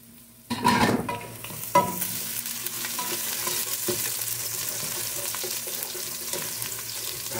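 Garlic hits a hot pan with a sharp sizzle, then is stirred with a few scraping clatters as steady frying hiss continues at close range, no voices.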